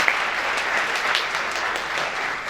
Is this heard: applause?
yes